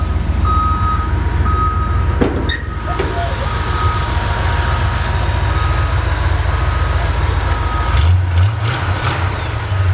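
A passing bus sounds a reversing beeper, giving evenly spaced electronic beeps over a steady, close low engine rumble, with a few clanks near the end.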